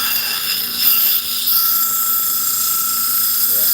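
An 80-grit lapidary grinding wheel grinds agate, producing a close, steady high whine with a faint scraping texture throughout.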